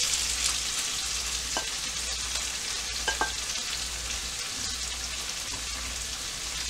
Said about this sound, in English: Now you want to put the shrimp on.